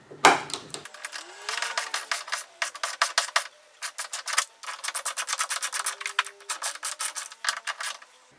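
Four 10mm bolts come off a Lexus GS400 spoiler with rapid ratcheting clicks, delivered in repeated short bursts up close, with no talk.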